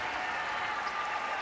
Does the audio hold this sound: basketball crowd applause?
yes